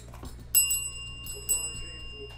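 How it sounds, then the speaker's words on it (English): A small bell is struck twice about a second apart, each ring giving a bright, clear tone that decays over a low steady background hum. "I'm going to get a new bell."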